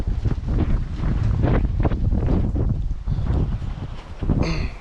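Strong wind gusting outdoors at a rifle range, buffeting the microphone with a steady low roar that swells and dips throughout, loud and close with no other sounds standing out.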